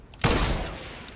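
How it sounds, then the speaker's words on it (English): A single loud sniper shot rings out in an online video game, with a sharp blast that fades into a short decaying tail. "I'm being sniped right now by."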